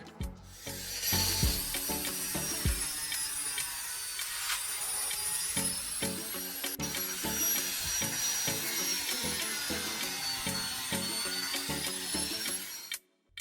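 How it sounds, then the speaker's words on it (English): PVC pipe being cut along a diagonal mark to shape a knife handle, a continuous close rasping, buzzing cut running steadily for over ten seconds with rhythmic strokes and no pauses. "Cut along the diagonal mark."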